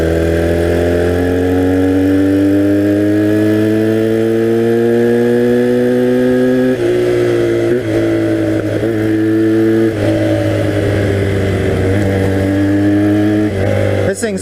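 A 1982 Honda 250cc vertical twin flat track motorcycle engine revs loud and close, its pitch climbing smoothly, then blipping up and down in quick surges, with a raspy, two-stroke-like tone.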